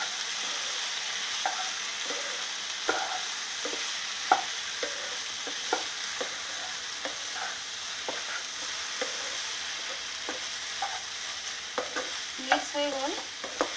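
Spices, including turmeric and coriander, are stirred into okra frying in a pan: a steady, soft sizzle runs underneath while a spoon scrapes and knocks in regular strokes close by, with no one talking.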